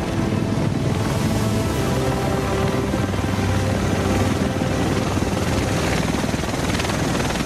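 A helicopter in the video game The Division, a loud, steady rotor roar and engine whine with rushing wind that holds constant throughout.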